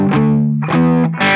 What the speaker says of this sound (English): then he takes everything off and plays an up pick with the open strings.